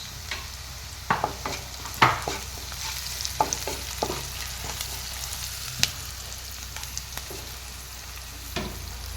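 Sliced onions frying with a spoonful of salt, turmeric and chili powder, stirred by hand: a steady low sizzle broken by scattered scraping clicks of the spoon against the pan, close by, with no talking.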